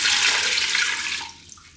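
A litre of water pours into a Ninja Foodi pressure cooker, a loud, close rushing splash that steadies and then tapers off as the pour ends.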